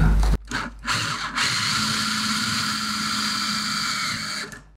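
A power drill drives a screw through wood into a metal frame, a steady close-up motor whine that holds for several seconds after a couple of short starting bursts.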